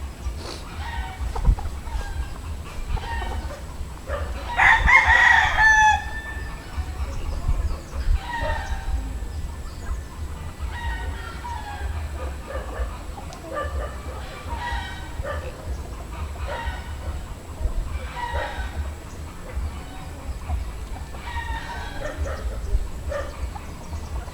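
Backyard chickens cluck steadily in the background while a rooster crows once clearly near the start; a low hum runs throughout.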